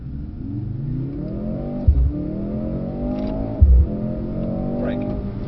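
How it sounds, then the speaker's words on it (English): A Mercedes-Benz car accelerates hard on the Weybridge test track toward 70 mph, its engine note climbing steadily through two gear changes that bring brief dips and thumps, loud and close from inside the cabin. "so we're going to accelerate to 70 miles an hour"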